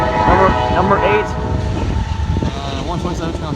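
Freight train passing on a CSX line in Blasdell, NY, rumbling loud and close with a horn blast early on and rolling wagon noise throughout, while a voice speaks over it.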